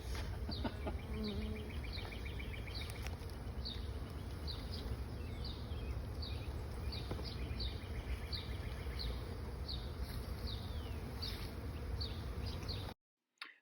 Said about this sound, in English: Man, this is a lot of bees.